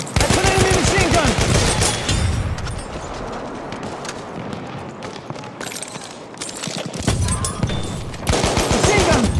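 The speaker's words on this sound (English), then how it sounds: "That's an enemy machine gun!" An enemy machine gun in a war video game rattles in rapid sustained bursts, loud and close, with pauses and renewed strings of fire, under shouted voices.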